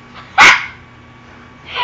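A single sharp, loud dog bark rings out close by in a quiet room, followed after a pause by the start of another bark.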